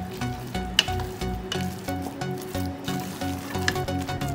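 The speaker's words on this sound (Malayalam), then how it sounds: "ഞാനൊന്ന് ഇളക്കി കൊടുക്കുവാണേ നല്ലപോലെ" A chicken and vegetable cutlet mixture being stirred in a hot pan, with a steady sizzle and frying crackle under repeated scraping stir strokes and a few sharp clicks of the utensil against the pan.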